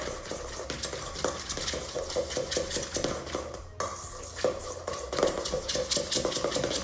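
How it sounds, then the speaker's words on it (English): Gelatine setting agent stirred into banana chiffon pie filling, with steady close scraping and light clinks of a utensil against a bowl and no talk. "And just give that a quick little stir is fine."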